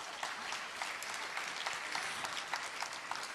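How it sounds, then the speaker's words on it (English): Distant, steady applause from a kindergarten graduation audience, a continuous soft patter of many hands with a few sharper claps standing out. "Then you can give a big round of applause."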